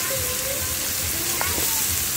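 Mashed olives frying in hot mustard oil in a wok, a loud, steady sizzle filling the whole stretch with a few brief stirring scrapes, close up.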